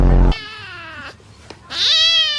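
A cat stuck inside a bag gives two long, drawn-out meows, loud and close, separated by a short pause. The first starts right after a brief low thump, and the second rises sharply before it fades.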